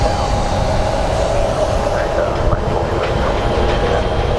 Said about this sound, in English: And that is our SkyTrain.